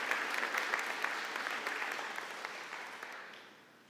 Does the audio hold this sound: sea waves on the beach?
no